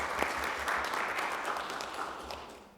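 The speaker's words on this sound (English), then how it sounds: "Sure, we can applaud that one." Applause in a city council chamber in Anacortes after a motion carries, moderate and steady from a modest group, fading gradually over a few seconds.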